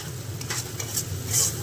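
Onion, garlic, cumin and green chili paste with a little ginger frying in a pan of oil for a fish curry, a soft steady sizzle with occasional stirring scrapes, close and alone.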